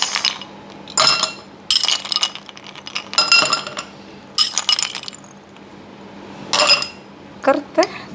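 Ice cubes drop into a glass in a series of bright, close clinks and rattles, several separate bursts spread across the clip with quiet gaps between them.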